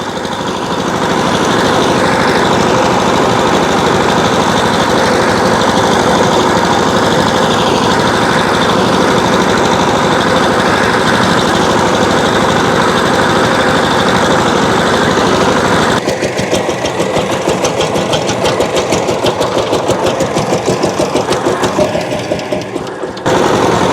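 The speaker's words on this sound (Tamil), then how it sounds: "அந்த சின்ன ஊடுகளுக்குள்ளாலையெல்லாம் உழக்கூடிய மாதிரி இருக்கும் மற்றது எங்கட தேவைக்கு வந்து அளவான ஒரு மிஷின்" A small engine-powered tiller ploughs a village garden plot, its engine droning loudly and steadily at close range throughout, with the tone shifting slightly toward the end.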